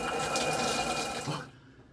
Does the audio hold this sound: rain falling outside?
no